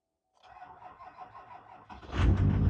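A Duramax diesel truck engine cranks for about a second and a half with a rhythmic churning, then catches and roars into a loud, steady idle.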